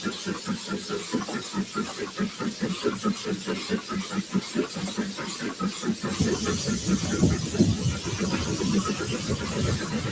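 A narrow gauge NG15 steam locomotive working hard to pull a train in Wales, with rapid rhythmic chuffing exhaust beats that build into a denser, louder hiss and rumble toward the end.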